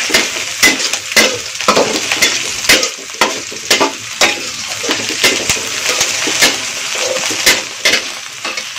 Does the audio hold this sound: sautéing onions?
yes